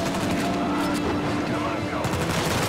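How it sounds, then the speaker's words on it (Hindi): Machine gun fire in the Uncharted 4 action video game: a continuous, dense barrage of rapid shots layered over one another, loud throughout, with a voice speaking underneath. "मशीन गन है यार सबके हाथ में।"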